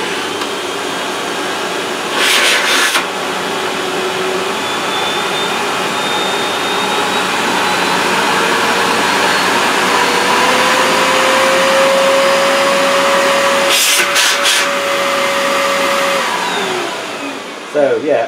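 A Goblin Aztec 1300E vacuum cleaner runs steadily and loudly with a constant whine, its pitch climbing slightly as the power setting is turned up, with brief clicks and a voice speaking over it.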